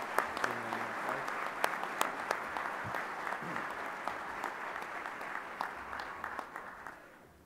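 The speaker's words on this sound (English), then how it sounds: "Let's give them another round of applause." An audience at a farm bureau annual meeting gives a round of applause for a couple honored as Farmer of the Year, steady clapping with sharp individual claps that tapers off at the end.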